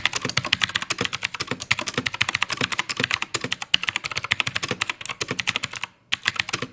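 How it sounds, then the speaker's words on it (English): Rapid, continuous typing on a mechanical keyboard with clicky blue switches, loud and close, each keystroke a sharp click in a steady, quick rhythm with a brief pause near the end. "the blue switches are the clicky clackiest of all of them, you're going to notice it's pretty loud"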